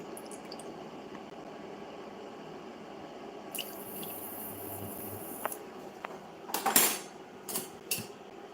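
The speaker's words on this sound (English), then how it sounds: "Then I'm going to add 2 tablespoons of water." Water trickles faintly into a kitchen bowl while mayonnaise is being made, followed by a few light clinks of a spoon or utensil against dishware; quiet, with no talking.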